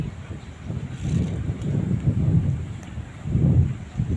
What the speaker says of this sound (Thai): สียงลมหรือเสียงฝนตกอยู่แถวหน้าวัดแคลาย